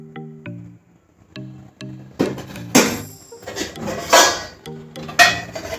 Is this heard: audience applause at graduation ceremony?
no